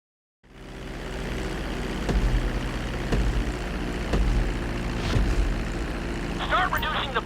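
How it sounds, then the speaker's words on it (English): Engine drone of an airplane coming in to land on a runway in GTA 5, a steady loud hum with harmonic tones and periodic clicks, joined near the end by a brief burst of higher warbling tones. "Start reducing the plane's altitude gradually so you're just above the runway as you approach."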